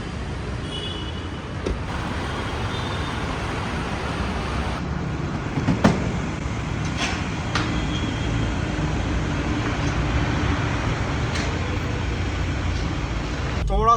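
A Toyota Hilux fitted with 33-inch tyres drives along, giving a steady, continuous road and engine rumble with a few faint knocks and rattles.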